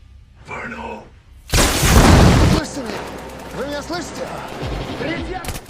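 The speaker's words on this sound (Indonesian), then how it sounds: "Lalu meledakkan pintu bajanya." A loud, sudden explosion blasting open a steel door in an action film scene, a heavy booming burst lasting about a second, followed by a chaotic rumbling tail with voices and sound effects underneath.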